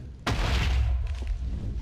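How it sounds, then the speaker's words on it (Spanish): An explosion in the Terraria video game lands with a sudden loud boom, then fades into a rumbling tail with faint crackles. "¿por qué tanta explosión?"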